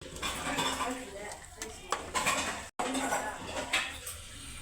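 Rice is tipped into a pot of mutton biryani and stirred, giving scattered metallic clinks and scrapes of utensils against the pot under a voice speaking.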